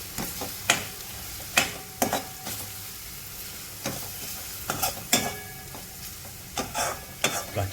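Raw mango fries in oil with a soft, steady sizzle, broken by a series of distinct scraping stirs of the spoon against the pan at an irregular pace.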